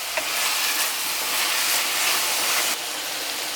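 Salted codfish for Jamaican cabbage and saltfish drops into a hot pot and sizzles steadily with a broad hiss of steam and frying, staying loud throughout before easing slightly near the end, with no voices.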